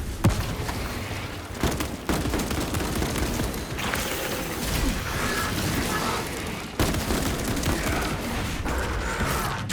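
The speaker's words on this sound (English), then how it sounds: "Throwing frag" Frag grenade blasts and gunfire in the video game Warhammer 40000: Space Marine 2 make a loud, continuous battle roar with heavy booming surges and dense crackling shots for the whole stretch.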